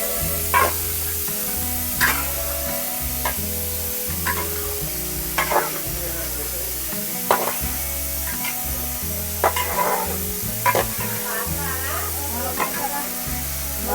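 Food fries in a pan in a restaurant kitchen, a steady sizzle with regular metal clanks and scrapes of a ladle, while voices talk nearby and a tonal hum runs underneath.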